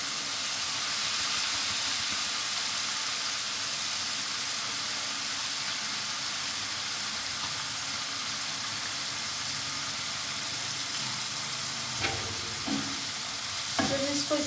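Mash dal frying in masala in a pan: a steady loud sizzle and hiss throughout, with a few spoon scrapes and knocks near the end, no voices.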